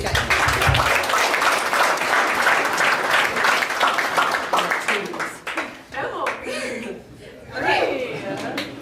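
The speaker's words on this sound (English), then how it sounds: "Round of applause for these guys." A room at a team meeting breaks into sustained clapping and applause, mixed with chuckles and laughter, then fades into scattered voices talking.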